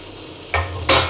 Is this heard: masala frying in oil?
yes